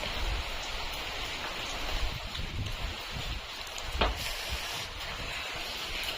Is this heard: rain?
yes